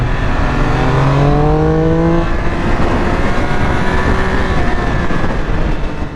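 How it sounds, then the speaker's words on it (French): A 2022 Triumph Speed 1200 RR roars close by through its stock valved exhaust, the revs climbing in rising sweeps and then holding high, loud and continuous with airbox intake noise. "quand vous ouvrez les gaz, on a vraiment une impression de sonorité à l'avant, de la boîte à air qui s'ouvre"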